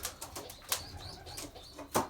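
Belgian racing pigeons in a loft make soft, scattered sounds: a few brief wing flaps and rustles, with faint cooing between them, close by but quiet.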